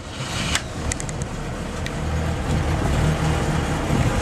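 Boat engine with a new blower motor cranking over and then settling into a steady, loud running rumble, with a few sharp clicks early on.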